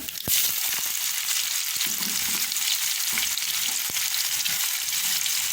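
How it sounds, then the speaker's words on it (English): Onions sautéing in about three tablespoons of hot oil over fairly high heat with cumin, methi and mustard seed for a Trinidadian potato and chickpea curry, a loud, steady, close sizzle with occasional sharp taps of the spoon. "I'm going to put the onions in firstly, sweat them"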